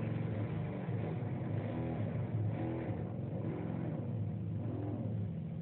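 A car pulls away from a traffic light, its engine rumbling and revving in a continuous low drone with rising and falling pitch, close and fairly loud, with no talking.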